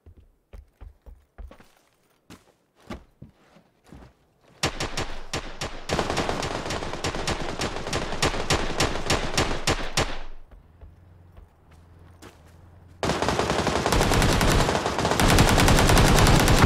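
Gunfire in PUBG opens with scattered single shots, then rapid automatic bursts build into long, loud sustained fire. A quieter pause follows before a final heavy volley, all close by.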